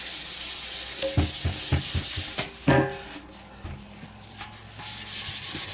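Hand sanding painted metal down toward bare metal on a Yamaha Virago 250 motorcycle, scratchy rubbing strokes with some knocks and pauses, close by with no talk.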